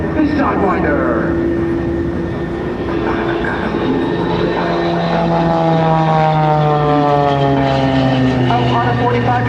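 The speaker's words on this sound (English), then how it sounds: "Nancy's going to show you one of her maneuvers that she invented and perfected with her coach, Sergey Boryak." Aerobatic propeller airplane flying maneuvers such as snap rolls at a 2005 naval air station airshow, its engine droning loudly and bending in pitch as it climbs and turns, with an announcer talking over it.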